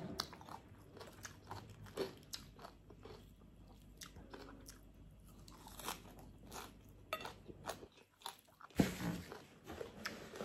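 Crunchy pork rinds being chewed up close, a series of irregular crisp bites and crackling crunches at low volume, with quiet gaps between them.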